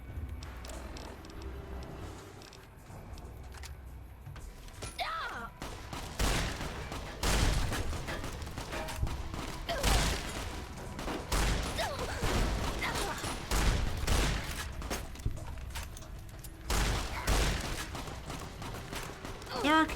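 Escaped convicts firing guns in Fallout New Vegas with the Living Desert mod, repeated loud sharp shots and bursts scattered irregularly through the stretch, some close and punchy, with someone talking in between the volleys.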